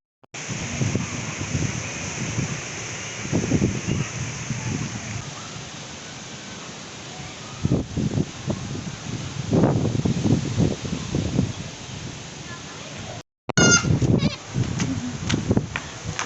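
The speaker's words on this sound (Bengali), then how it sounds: "ঝড় দেখার জন্য বৃষ্টি শুরু হয়ে গেছে" Rain and gusty storm wind roar outdoors under dark clouds, with buffeting rushes of wind noise and a steady wash of falling rain while people talk nearby.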